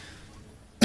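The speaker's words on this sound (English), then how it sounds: "I'm just coughing, okay?" A single short, close cough breaks in abruptly at the very end after near silence.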